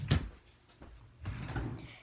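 A drawer of baby clothes being opened in a bedroom, a soft close thump followed by a longer low sliding rumble, fairly faint and near, with no talking.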